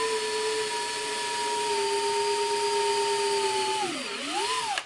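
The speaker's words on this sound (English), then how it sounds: "drill through the existing hole and drill a" A power drill whines at a steady high pitch while drilling a 3/32 inch hole through an existing hole, then bogs down and revs back up near the end.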